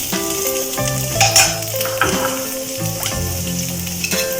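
Sliced onions sizzling and frying in a pan for a masala dosa potato filling, a continuous close crackle with a few clinks of utensil against metal.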